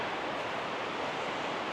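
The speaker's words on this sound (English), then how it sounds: "watch the river, hear the rapids" River rapids at Belknap Hot Springs in Oregon, a steady broadband rush of flowing water that stays loud and even throughout with no talking.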